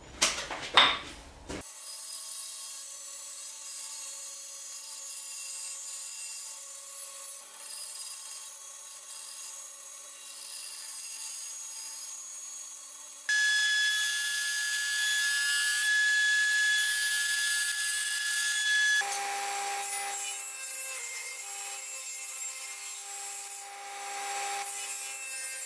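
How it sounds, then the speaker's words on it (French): A band saw runs steadily, cutting marked-out wooden workbench parts with a continuous whirring rasp that shifts in pitch partway through, preceded by a brief clatter. "maintenant direction la scie à ruban"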